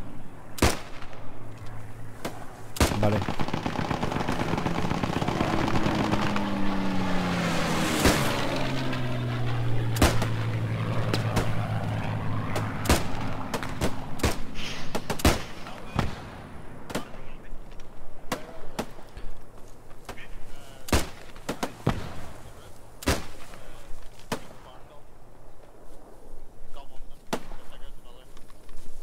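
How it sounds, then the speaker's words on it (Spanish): Gunfire in the WWII shooter Post Scriptum, sharp isolated shots cracking at irregular intervals, some near and some distant, over a droning engine-like rumble, with players talking over the radio. "Estamos sobre la posición y ahí los primeros tiros ya."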